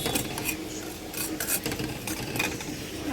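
Dried chapa shutki fish frying in a pan is stirred, giving a steady scraping, rasping rub of utensil against metal with light sizzle, close and continuous, with no talking.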